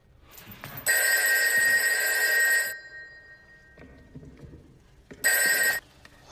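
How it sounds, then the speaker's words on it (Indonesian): A telephone ringtone rings loudly and close in two electronic bursts, a long one followed after a quiet gap by a shorter one, with no voices. "ia mulai sadar dengan nada dering telepon yang terdengar"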